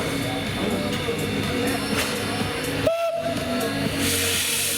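A 130-year-old steam locomotive sounds one short, clear whistle blast partway through, heard over the low rumble and hiss of the engine at a railway museum while people talk nearby.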